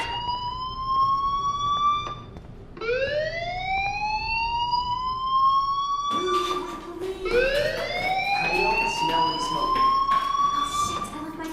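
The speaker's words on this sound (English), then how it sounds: "do you hear that fire alarm?" Rising, wailing electronic alarm tones sweep upward repeatedly in the Life Is Strange video game, loud and continuous with overlapping harmonic sirens across the whole span.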